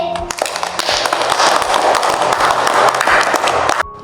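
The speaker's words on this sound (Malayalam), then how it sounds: "മിടുക്കി ഒരു കയ്യടി കൊടുത്തേ" An audience at a church gathering breaks into a burst of hand clapping that fills about three and a half seconds at steady loudness, then cuts off abruptly.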